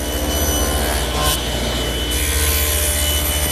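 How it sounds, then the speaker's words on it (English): A table saw cuts tenon cheeks with a tenoning jig holding the workpiece for a chaise lounge build, a steady, loud, continuous whine and rasp with no break throughout. "My tenoning jig holds the piece securely as I make the cheek cuts for each tenon."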